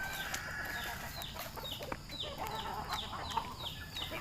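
Gamefowl chickens cluck in a series of short, repeated calls, close and moderately loud over a steady background hiss, with no talking.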